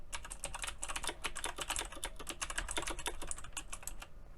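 Rapid, steady typing on a Razer BlackWidow Elite mechanical keyboard with clicky green switches, a dense run of sharp, close clicks with no voices.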